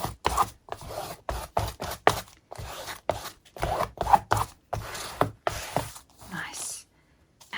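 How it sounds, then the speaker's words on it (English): Glue is spread across a junk journal cover with repeated short scraping and rubbing strokes in a steady rhythm, close and dry-sounding, then trailing off near the end. "Just going to spread the glue a little bit from this side."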